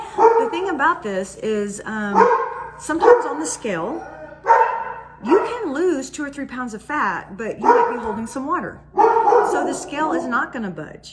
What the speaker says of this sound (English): sorry about my dogs, I'm at home again today.